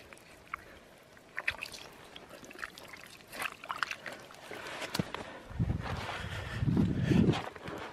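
Water trickles and gurgles out of a puddle through a dug channel, quiet at first and growing fuller and louder toward the end, heard outdoors with faint wind and no talking.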